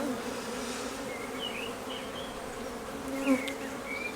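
Honeybees in a nucleus colony newly installed in its hive hum in a dense, steady buzz close by, with individual bees droning past now and then.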